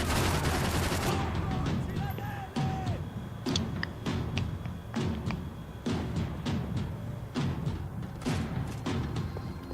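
Repeated gunfire from the video game Max Payne 3: loud, sharp bursts and single shots in an uneven rhythm throughout, with heavy thumps between volleys.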